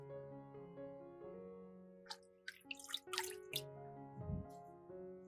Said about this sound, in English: Wash the leaves so that all the dirt is gone.